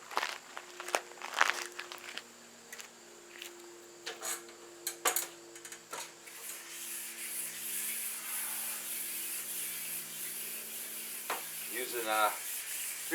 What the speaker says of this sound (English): My plan was to finish sanding the roof.